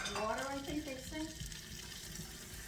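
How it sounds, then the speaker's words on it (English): Water runs steadily into a cooking pot, a cup and a half measured for homemade jasmine rice, a continuous splashing fill lasting a few seconds with a faint voice underneath. "now we're going to add in a cup and a half of water"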